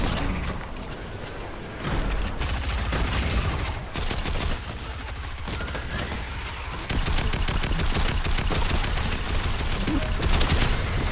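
A grenade launcher fires during a Fortnite battle against a horde. Dense, loud bursts of gunfire and mechanical clatter run throughout, with rapid repeated shots and booms over a continuous noisy background.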